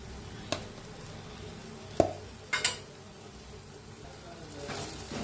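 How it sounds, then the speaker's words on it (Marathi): Homemade garam masala, turmeric and red chili powder stirred and roasted in a pan for egg masala, a few sharp utensil clinks and scrapes against the pan over a faint sizzle, fairly quiet. "चांगलं मिक्स करून भाजून घेऊया."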